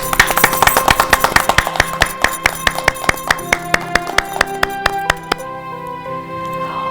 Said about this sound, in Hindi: मैं चाहूंगी आप सभी के लिए एक जोरदार तालियां आप सभी बजाएं।